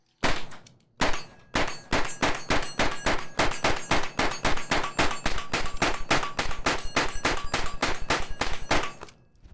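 A Mac 5 pistol-caliber firearm fires a full magazine of Ammo Inc. 115 grain rounds, a fast string of about thirty loud, sharp, ringing shots spaced evenly after a single opening shot, with no speech.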